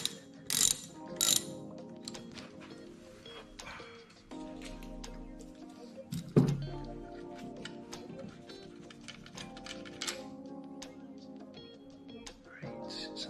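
Ratchet working the main center bolt on a Segway Ninebot MAX G30 e-scooter, quiet runs of rapid clicking in bursts with small metallic knocks and handling noises between.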